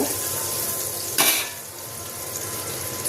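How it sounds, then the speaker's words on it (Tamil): Onions softening in a pan of butter with a little oil, a steady close sizzle of frying throughout, with a brief louder burst of hiss as they are stirred. "வெங்காயம் நல்லா வதங்கட்டும்."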